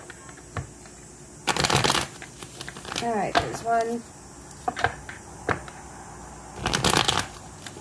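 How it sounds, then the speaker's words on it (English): Tarot cards are shuffled in two loud, close riffle bursts separated by softer taps and handling sounds, with a person speaking briefly between the shuffles. "All right, let's do three more shuffles."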